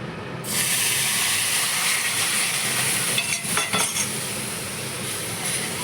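Sugar is tipped into hot karah prasad in a pan and sets off a loud, steady hiss and sizzle that holds for several seconds, with a few louder crackles partway through.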